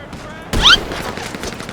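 A sharp gunshot burst in GTA V Online, one loud close crack with a brief ringing tail over faint background noise.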